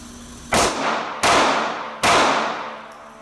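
Three sharp Sig P365 pistol shots ring out at an even pace, each a loud crack with a decaying tail, fired close with no talk.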